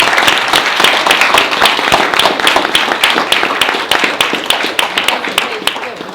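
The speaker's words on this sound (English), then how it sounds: "So I'd like to give our Chinese teachers of Chinese a great round of applause" An audience applauds Chinese language teachers at a school Confucius Classroom opening, loud, dense clapping held evenly from start to finish with some voices mixed in.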